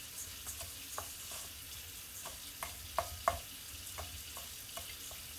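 A cup of dry, low-starch rice is stirred in a pan for chicken and rice. Soft background frying sits under scattered light clicks and taps from the stirring, with two sharper knocks near the middle and no talking.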